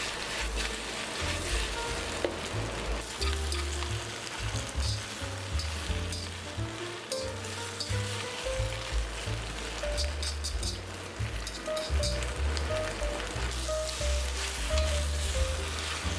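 Beef chow fun noodles sizzle loudly and steadily in a hot pan as they are tossed, with a continuous frying hiss and clattering stir sounds and no talking.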